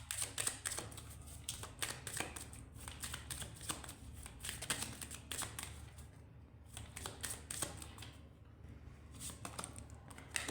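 Tarot cards being shuffled during a Hindi love-life reading, a steady run of crisp riffling and flicking bursts repeated close to the microphone with no talking over them.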